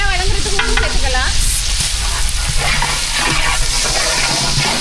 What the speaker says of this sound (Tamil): வெங்காயம் சேர்த்து நல்லா வதக்கி விட்டுக்கலாம்.